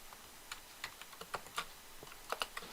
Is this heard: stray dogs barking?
no